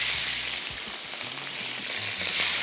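Medium shrimp fry in hot oil with a steady, loud hiss that holds throughout, with faint low knocks beneath and no voices.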